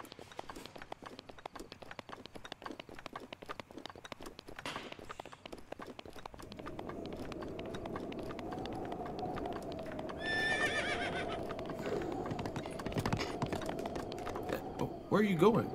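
A horse in Breath of the Wild gallops with quick, rhythmic clip-clop hoofbeats that build over time, joined by a whinny and snorts near the end, with faint keyboard-like clicks early on.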